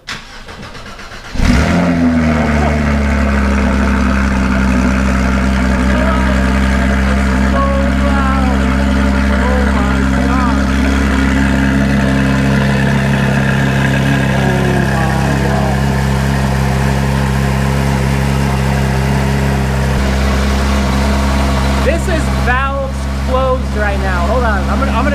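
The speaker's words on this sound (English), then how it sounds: "we're gonna go ahead and fire this up, the one-off titanium exhaust" A Porsche GT3 with a one-off titanium exhaust cranks and fires, then settles into a loud, deep, steady idle close by, with voices talking over it.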